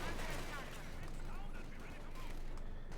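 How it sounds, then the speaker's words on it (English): Tank cannon and small-arms fire in Company of Heroes 2, with a T-70 light tank firing amid dense, steady battle noise at moderate distance, under faint background commentary. "T-70 firing"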